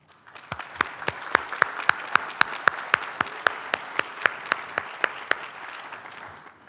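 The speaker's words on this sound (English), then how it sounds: "let us give our students their first round of applause today" An audience applauds at a graduate white coat ceremony for nursing students, a full crowd wash of clapping topped by one sharp, evenly paced nearby clap after clap, fading out at the end.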